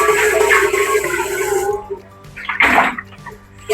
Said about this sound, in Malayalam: കുറച്ച് തണുത്ത വെള്ളം എടുക്കാം.